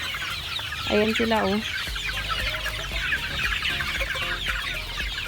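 A flock of chickens feeding, with soft clucks and a short burst of higher calls near the start, then scattered pecking and clucking under a constant chorus of background birds, while a person speaks briefly nearby.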